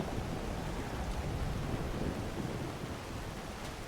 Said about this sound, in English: The thunder is roaring, the wind howling.